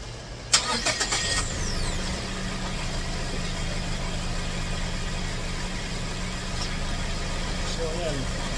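A 2014 Mazda CX-5 engine cranks briefly and starts after a starter replacement, then settles into a steady low idle that runs for the rest of the clip, close and constant.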